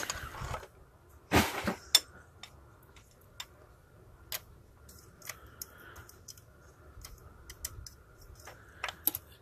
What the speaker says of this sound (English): So here's now removing the spring.